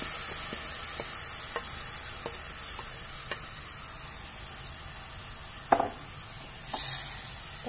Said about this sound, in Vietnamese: Bây giờ chúng ta sẽ đảo đều.